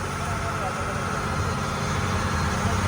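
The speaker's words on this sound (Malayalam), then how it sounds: "എഞ്ചിൻ്റെ നല്ല ശബ്ദമല്ലേ." A ferry boat engine drones loud and steady on a backwater crossing from Alappuzha to Kottayam, a constant low rumble with no pauses.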